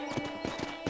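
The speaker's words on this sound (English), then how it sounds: "I picked out a fine horse for you" Horse hooves clip-clop in Red Dead Redemption as a horse walks along, four evenly spaced hoofbeats in a steady rhythm, fairly close, with no talking.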